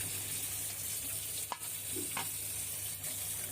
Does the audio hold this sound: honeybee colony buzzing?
no